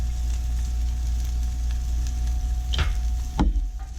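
Shallots and celery sweat gently in a pan over low heat, a steady soft sizzle running throughout with a couple of brief stirring clatters near the end.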